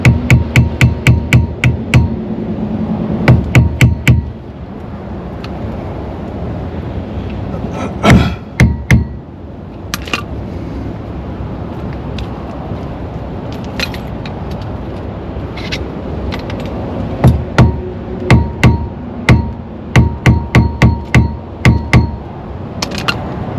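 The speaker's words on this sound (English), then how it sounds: "Just got to get enough room so I can get this screwdriver in there." Prying off a cover with a screwdriver during annual RV maintenance: loud clusters of sharp metallic knocks and taps, repeated rapid strikes separated by quieter scraping stretches, no voice.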